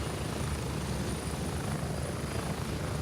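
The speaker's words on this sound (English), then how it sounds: "The chopper makes it very difficult to talk." A helicopter flies overhead with a steady, loud rotor roar and dense low-frequency thumping that fills the whole stretch without letup, no voices over it.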